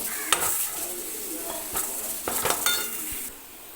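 Spices with pepper and garam masala being stirred in a pan for kappa biryani, with a broadband sizzle and several scraping strokes of a utensil against the pan, close and moderately loud with no talk.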